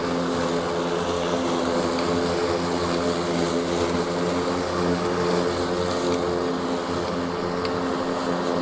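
A Ryobi 40V HP battery lawn mower runs on an early morning lawn. Its even, loud, droning whir holds steady and close throughout with a tonal hum, and no one speaks.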